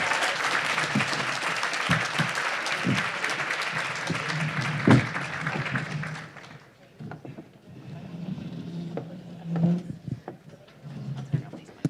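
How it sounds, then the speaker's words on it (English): Audience applauds a conference's closing panel, a dense sustained clapping for about six seconds that then thins to scattered claps and quiet room noise. "Let's give our final panel a big round of applause."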